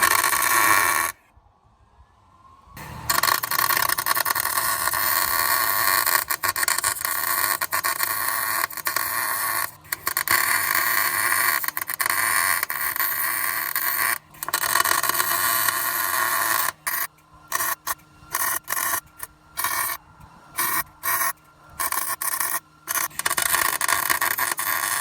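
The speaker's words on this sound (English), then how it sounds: "Time to weld up the other head bolt." Wire-feed welder laying beads on a head bolt of a 1972 Dodge Dart differential being welded solid, a steady close crackling buzz running nearly the whole time, broken by a brief pause early and several short stop-start bursts near the end.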